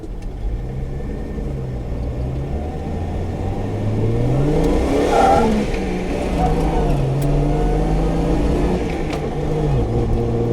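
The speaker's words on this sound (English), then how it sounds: "You can hear the gear winding up." A Jeep Grand Cherokee ZJ with a swapped AX15 five-speed manual accelerates with a rising whine from the transmission over the engine's rumble, the pitch climbing and dropping as it shifts gears.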